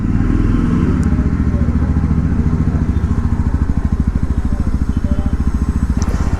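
A new Yezdi Roadster motorcycle being taken out of a showroom, its engine running close by with a loud, steady rhythmic thumping throb and no talk over it.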